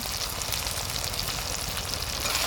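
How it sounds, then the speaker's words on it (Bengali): Ginger and garlic paste with nutmeg, mace and garam masala paste frying in hot oil for a village-style desi chicken curry, a steady dense sizzle that holds evenly throughout with no talk. "খুব ভালো করে মশলাটা কষে নেব"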